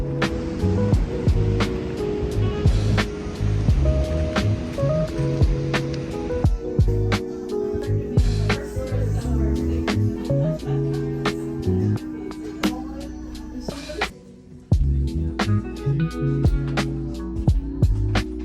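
Steady heavy rain pours onto a car from outside, a dense continuous hiss with patter and sharp drops striking the roof and windows, close and loud throughout, with music-like tonal bands mixed underneath and no talking.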